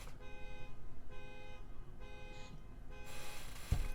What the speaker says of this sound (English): Excuse the car alarm.